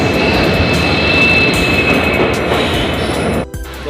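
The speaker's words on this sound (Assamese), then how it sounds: "বহুত দেৰি অপেক্ষা কৰা ট্ৰেইনখন আহিলে" A passenger train pulls into Tinsukia station in Assam with a loud, steady rumble and rolling wheel noise, a faint whistle-like tone riding on top, before the sound drops away sharply near the end.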